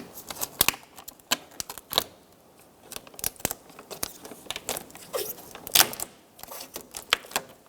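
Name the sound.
peeling back plastic sheet with sticky adhesive from Subaru door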